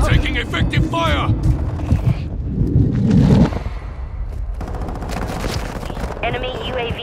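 Rapid automatic gunfire bursts from Call of Duty: Modern Warfare II multiplayer, loud and sustained, with several volleys overlapping game voice callouts and chatter.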